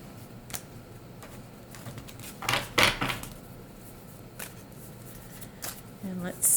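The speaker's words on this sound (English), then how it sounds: "let's finish up the reading by pulling a Wisdom of the Oracle card" An oracle deck of Wisdom of the Oracle cards is shuffled and a card pulled, with quiet riffling and a louder flurry of card slaps in the middle, then a few scattered taps and rustles, under a low background hum.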